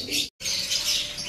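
Racing pigeons being prepared for delivery give close, bright chirps and soft coos with some wing flutter. There is a brief silent gap near the start, and no one speaks.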